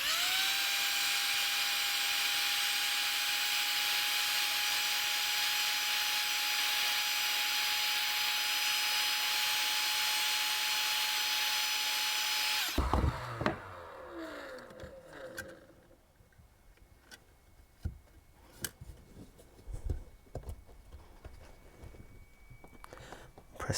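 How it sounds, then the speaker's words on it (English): A hot air gun runs with a loud steady high whine and rushing blow for about twelve seconds, then cuts off abruptly, leaving quiet handling clicks and small knocks. "Right, let's get a hot air gun."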